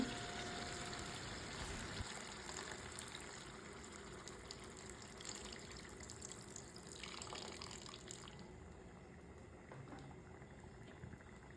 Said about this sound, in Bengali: এবার এর মধ্যে পরিমাণ মতো জল দিয়ে দেবো